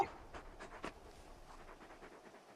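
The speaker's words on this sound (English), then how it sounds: "You're just a big puppy, aren't you? A very big puppy." A big dog companion in the video game Final Fantasy XVI pants softly in quick, rhythmic breaths, faint and close, with no talking over it.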